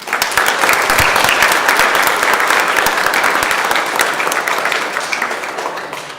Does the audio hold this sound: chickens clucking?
no